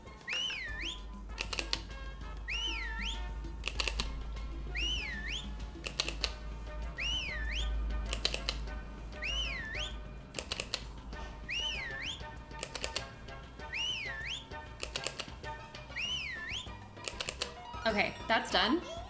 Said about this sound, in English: So I'll just stand here and whistle until it's done.